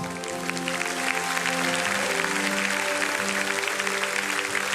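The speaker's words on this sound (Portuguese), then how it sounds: "Só dar uma salva de palmas para Jesus." Clapping from a congregation during a church worship service, a dense and steady wash of applause lasting throughout, with music tones underneath.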